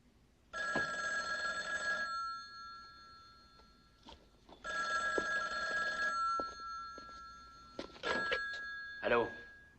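An old telephone bell rings in two long bursts separated by a pause, followed by shorter clicks and a brief rattle as the receiver is picked up, with a voice briefly speaking.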